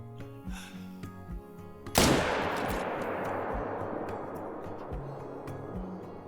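A single loud rifle shot rings out in the hunting game theHunter: Call of the Wild, a sharp crack followed by a long rolling echo that fades slowly over several seconds above quiet background game sounds.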